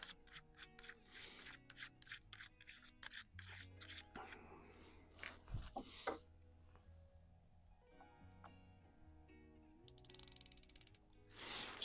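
Scope turret on a Ruger Impact Max Elite .22 caliber springer air rifle is adjusted at a range, giving a quick run of crisp mechanical clicks followed by quieter ratcheting and handling noises.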